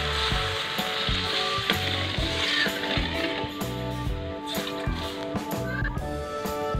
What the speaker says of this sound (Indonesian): Sekarang saya akan tambahkan air.